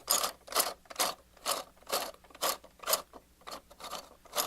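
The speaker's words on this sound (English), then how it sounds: "See the gears in there moving." The gears of a toy elevator mechanism in a DyJupiter toy under repair grind and ratchet in a steady repeating rhythm, about ten evenly spaced mechanical clicking bursts, close and fairly faint, with no talking.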